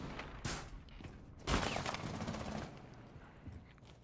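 Rapid gunfire sprays in bursts during a Rainbow Six Siege match, with a loud volley near the start and a heavier sustained stretch midway, clattering continuously at moderate volume.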